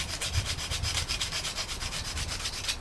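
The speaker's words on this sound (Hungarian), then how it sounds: "a hézagokat tovább csiszolhatjuk" Hand sanding along the gaps of a wooden mosquito net frame, a quick, regular back-and-forth rasp of about eight strokes per second, close by and steady throughout.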